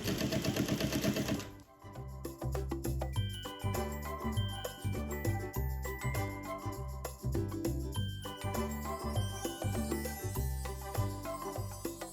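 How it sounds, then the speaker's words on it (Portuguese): A sewing machine stitches steadily across a fabric blanket corner in rapid regular bursts, close and loud, with light mechanical clicking after a brief noisy start. "eu viro o tecido, alinho de novo e continuo costurando"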